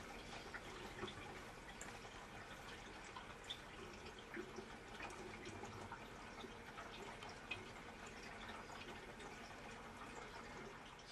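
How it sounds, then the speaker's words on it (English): Water running steadily into a Japanese toilet tank as it refills, the flow passing through a small hand-wash basin on top; a faint, continuous trickle with no voices. "This is the toilet. And as you can see, as it fills, you have a place to wash your hands"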